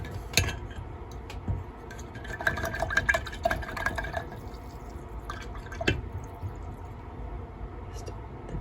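Water dripped onto paint for a junk journal, with small drips and light clinks of a brush or cup against a dish amid quiet tabletop handling sounds.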